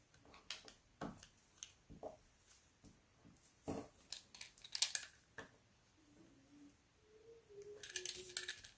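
Paper trimmed for a handmade card, a string of quiet, close snips and small taps of paper and tools, with brief soft rustles and a short scraping at the end.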